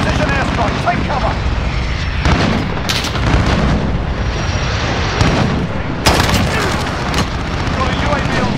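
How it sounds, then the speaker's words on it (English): Airstrike explosions boom and rumble in a Call of Duty Modern Warfare match, heavy blasts and gunfire layered over continuous battle noise, with radio-style voices talking throughout. "Enemy position airstrike, take cover."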